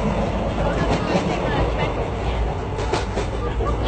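Golden Chariot luxury train rolling on its rails, a steady dense rumble with faint rhythmic clatter filling the whole stretch, heard from inside the carriage with a murmur of people in the background.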